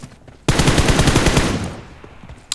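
A sustained burst of rapid automatic gunfire from a multiplayer video game, loud and close, rattling steadily for over a second before tapering off, followed by a single sharp shot at the end.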